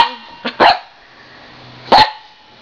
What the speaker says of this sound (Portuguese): tá sendo atacado por um cachorro